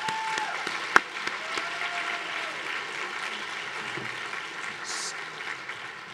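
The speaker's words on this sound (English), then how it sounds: "So I would just like to get a round of applause for all the presentations and the awards so far." An audience at an evening advocacy event applauds the presentations and awards after a feast, giving soft, sustained clapping from a room of people. A sharp knock stands out early and a brief higher tone sounds near the end.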